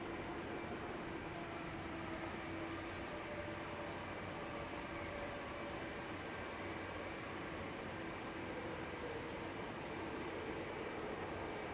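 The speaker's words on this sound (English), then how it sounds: "So this A330 going to Boston." Airbus A330 departing Dublin Airport bound for Boston, a steady distant broadband jet roar with a faint high whine, continuous and even throughout with no voices.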